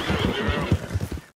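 A horse in Red Dead Redemption 2 lets out a loud, close whinny with clip-clopping hooves underneath, all within about a second and a half before it cuts off.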